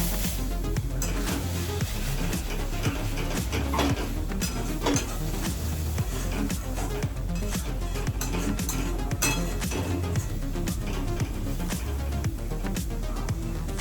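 Pork curry meat being stirred in a pan with spices and a little warm water, giving a steady busy mix of sizzling and repeated clinks of a spoon against the pan.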